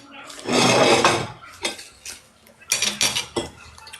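Dishes, pots and cutlery clattering during dishwashing, with a loud sustained burst of rattling followed by several sharper separate clinks and knocks, close by with no talk.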